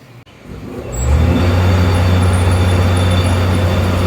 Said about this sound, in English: Fires right up, starts strong, runs strong